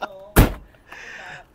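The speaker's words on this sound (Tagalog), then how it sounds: "kapag isinara mo ang pintuan, parang refrigerator, no?" A vehicle door shuts with a single solid thump, heavy and close, surrounded by quiet talk.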